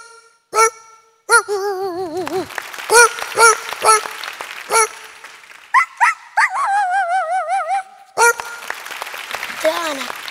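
On a comedy stage show, a boy imitates a dog with his voice, giving a string of barks, yips and wavering whimpers, loud and close, with applause from the audience around them.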